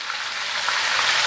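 Mutton raan frying in a large pot of hot oil, a steady, dense sizzle that stays loud and even throughout with no talking.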